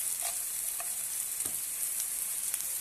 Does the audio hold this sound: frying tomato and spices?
yes